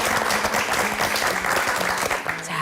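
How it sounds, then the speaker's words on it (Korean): A live audience claps steadily at the close of a televised Korean talk program, a dense, even wash of applause that holds for the whole stretch and thins slightly near the end. "다시 한번 큰 박수 보내주시고요"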